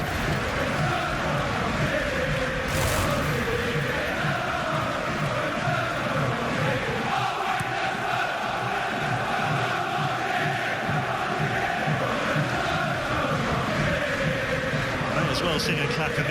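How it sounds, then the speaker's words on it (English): Tottenham supporters at a football match on a freezing day make a steady, loud crowd roar with chanting, heard under continuous commentary. "Great noise in the Tottenham fans"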